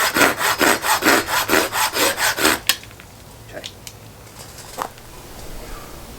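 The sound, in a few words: sawing the end off a piece of wood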